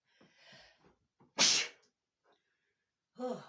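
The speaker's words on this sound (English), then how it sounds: "I'm gonna sneeze." A single loud, sharp sneeze bursts out, preceded by quiet breathy sounds and followed by a brief vocal sound.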